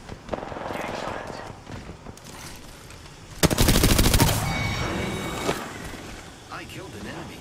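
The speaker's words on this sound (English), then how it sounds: "Getting shot." Automatic weapon fire in Apex Legends, a loud, fast rattling burst of a couple of seconds set amid quieter game noise and scattered impacts, with voices talking around it.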